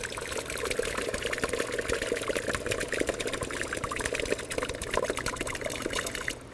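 Water draining and trickling steadily out of an old police car after it was pulled from a swamp where it sat sunk for 40 years. The splash runs continuous and close, with no voices.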